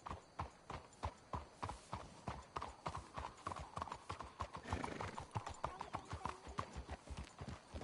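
Horses' hooves clip-clop at a steady trotting rhythm in the video game Red Dead Redemption, with close, continuous beats over a soft background and a brief whinny-like sound.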